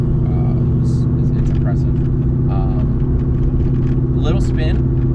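A 2003 Ford SVT Cobra engine running steadily with a deep, continuous low rumble close by, while people talk over it throughout.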